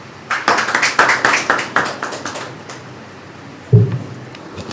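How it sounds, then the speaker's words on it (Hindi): A congregation claps to welcome the pastor at a midweek evening church service, a brief burst of irregular claps over about two seconds that thins out, followed by a single low thump. "तो इस समय हम पास्टर मनोज का स्वागत करते हैं तालियों के साथ।"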